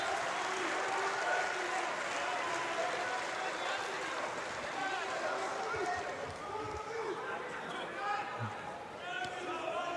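Spectators in a partly filled stadium at a judo world championship in Hungary clap for judoka Ungvari, a steady rustling wash of applause under a commentator talking.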